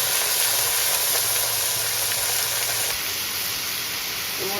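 Pieces of bottle gourd hit a hot pan for Bengali lau chingri, giving a loud, steady, close-up sizzle that hisses evenly throughout with no talking.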